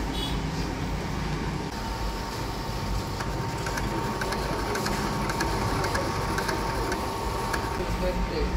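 Vinyl sticker cutting plotter at work on a camper van sticker job, giving a steady close mechanical whir with faint rhythmic ticking that runs unbroken under a broadband hum.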